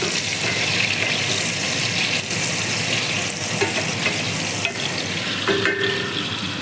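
Onion hits a hot pan with spices and fries in a loud, dense hiss, stirred now and then with faint utensil knocks, close up and without speech.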